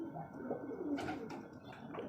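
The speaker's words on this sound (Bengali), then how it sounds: "অনেক পুরনো একটি পায়রা আমার খোপের" Low, throaty cooing of pigeons inside a home loft, several birds rolling their calls together at close range with a few soft flutters.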